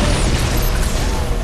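Grenades exploding in Halo Reach multiplayer, a dense, loud roar of blasts and rumble filling the whole moment without a break.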